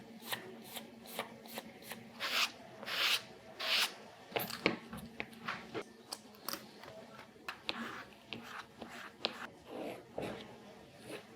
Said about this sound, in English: So I'm gonna go ahead and get this all glued up, and then I'll start wrapping over the edges.